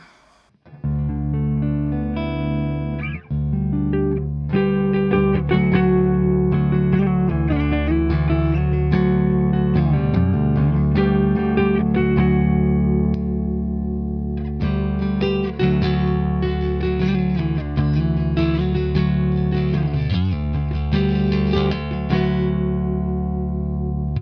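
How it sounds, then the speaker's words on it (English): A Harley Benton SC-DLX electric guitar on clean single-coil pickups, played through a Fender Deluxe Reverb amp, rings out chords and notes with a touch of reverb, steady and fairly loud, with no talking. "Let's go clean single coils with the Fender Deluxe Reverb again."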